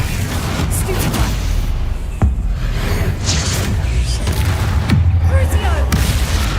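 Spellcasting in Hogwarts Legacy, a dense rumbling din of magical booms and blasts with a few sharp impacts and swishing bursts, loud and continuous, with a voice mixed in.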